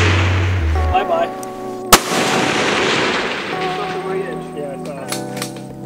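Q Fix rifle chambered in 6.5 Creedmoor fired at an outdoor range: one sharp, loud gunshot cracks out midway with a rolling echo, amid steady background noise and tonal hum.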